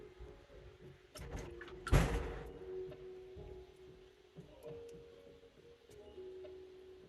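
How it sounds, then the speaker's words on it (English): A stuck side door in a home bangs once loudly near the middle, with a few smaller knocks and rattles around it against a quiet indoor background. "if you hear some banging, that's the stuck side door of the place I live"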